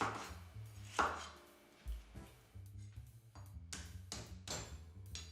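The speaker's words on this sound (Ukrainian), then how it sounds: "Нарізаю ось такими невеликими шматочками" A knife chops vegetables for oven-roasted grilled vegetables on a board with a steady run of crisp taps, fairly quiet and close, with a low hum underneath.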